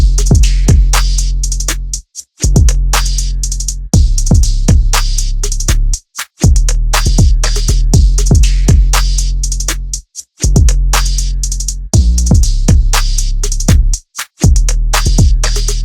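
A loud R&B drum loop with punchy kicks and deep sliding 808 bass following each chord's root note, briefly dropping out every couple of seconds before restarting.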